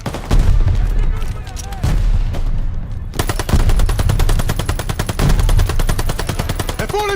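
Sustained automatic gunfire and heavy shooting in a Call of Duty Vanguard campaign battle, loud dense rapid bursts that intensify partway through, with shouted voices mixed in.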